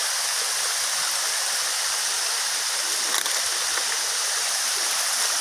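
Taginis Falls pours steadily in a broad, constant rushing roar of falling water, loud and unbroken from start to finish.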